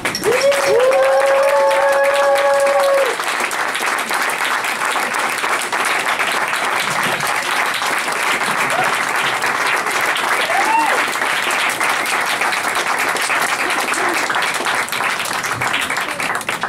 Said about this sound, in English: Another round of applause for Bird Marathe.